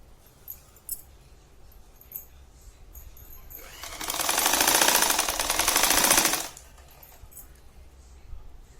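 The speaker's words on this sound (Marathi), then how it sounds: "चला आता मी तुम्हाला ही शिवून दाखवते." A sewing machine runs in one steady burst of a few seconds, stitching the hem of a readymade petticoat, close by amid small handling clicks before and after.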